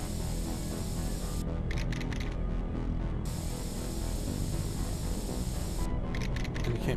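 Graffiti being spray-painted in The Warriors video game: steady aerosol hiss with short bursts of rattling spray near the start and end, loud and close over a constant background hum.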